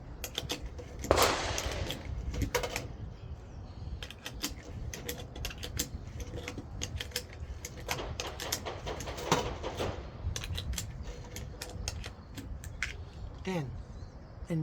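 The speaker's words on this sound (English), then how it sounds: "So this is what I used to load my my mags with. It makes loading very simple." A magazine loader pressing rounds into gun magazines gives repeated sharp clicks and metallic snaps at an uneven rhythm, close by, with occasional talk and birds in the background.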